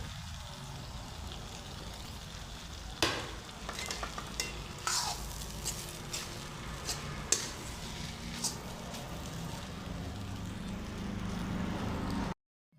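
Boiled rice is tossed into black rice masala in a pan, a steady frying hiss under a series of scraping spoon strokes and clinks against the metal, close and even, with no voices.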